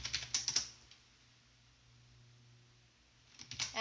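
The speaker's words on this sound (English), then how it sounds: "open a terminal and type in these commands" Computer keyboard typing in a quiet room, a quick flurry of close clicks, a pause, then another short burst of keystrokes.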